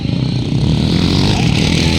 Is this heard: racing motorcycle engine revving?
yes